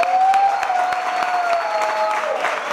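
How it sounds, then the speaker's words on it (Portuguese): Audience applause at a comedy show, a dense steady patter of clapping from a crowd running throughout with a faint tonal whistle or cheer drifting above it. "uma salva de palmas para todo mundo que é fã da comédia"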